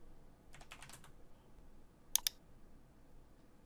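Quiet computer keyboard typing in a short burst, followed by a couple of crisp mouse clicks, close and faint with no voices.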